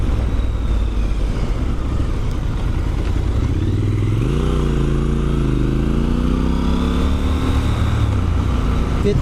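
A Triumph Scrambler 1200 XC with its triple-cylinder engine is being ridden, a loud, steady exhaust drone that climbs in pitch midway as the rider accelerates and then settles back to a constant cruise.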